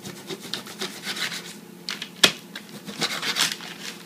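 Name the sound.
knife cutting meat into chunks on a board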